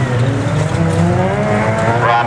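Race cars lapping the Standlake circuit roar together in a loud, continuous pack, engines rising in pitch as they pass close by, with a hint of tyre noise and a faint announcer voice underneath.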